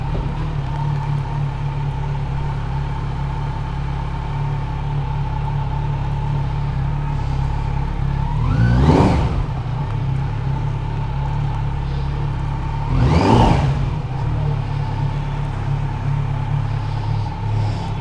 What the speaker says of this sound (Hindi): यहाँ पे आके डोनट मार के रुकाना पड़ता है मेरी गाड़ी को